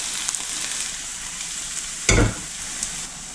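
A soft steady sizzle of onion frying in a pan until lightly golden, broken by one short louder burst of hissing and stirring midway.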